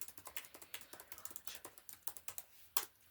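Rapid, irregular clicks and taps of notes being written or typed during a close-up medical exam roleplay, close and crisp with short pauses and one sharper click near the end.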